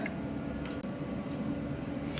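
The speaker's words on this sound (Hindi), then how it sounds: "तो दोस्तों ये हमारा फॉल्ट का अलार्म आ रहा है नॉर्मली।" Fault alarm from a Rosemount ultrasonic level transmitter: a steady high-pitched electronic tone sounds continuously over a constant low hum, with a brief dropout partway and faint ticking at the edges.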